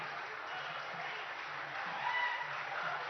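Sustained crowd applause fills an outdoor foundation-stone ceremony for Telangana's Future City, a steady dense clatter of many hands at moderate level for about three seconds, swelling slightly near the end.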